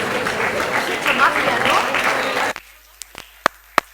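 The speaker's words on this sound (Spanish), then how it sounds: "¿Qué pasa este aplauso tímido?" Audience applause at a mathematics-in-everyday-life lecture, a room of listeners clapping for themselves; a dense round of clapping stops abruptly partway through, leaving a few sparse, isolated claps in near silence.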